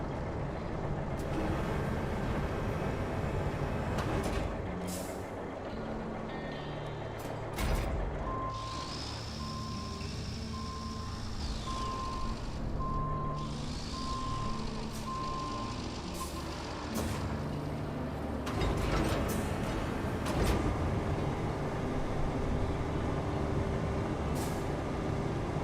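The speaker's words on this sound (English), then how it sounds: "I'm gonna drive this truck over here out of the way" A heavy truck in the driving game Roadcraft rumbles along with a low engine drone, then a steady series of reversing beeps sounds for several seconds and an air-brake hiss punctuates the motion.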